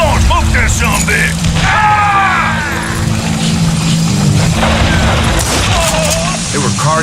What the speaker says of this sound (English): Dynamite! Come on, smoke that sumbitch.